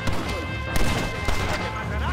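Red Dead Redemption gunfight, with loud overlapping shots cracking in a dense volley over a busy game soundscape and shouting voices.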